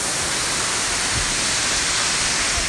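A waterfall roars in a dense, even wash of water noise, close and continuous with no pauses and no talking.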